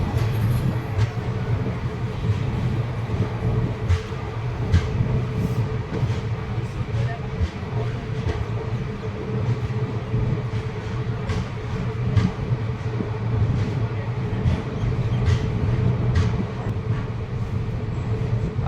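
The Teesta Torsa Express, running late through dense fog near Alipurduar, gives a steady, close rumble of rolling wagons with faint rhythmic clatter throughout.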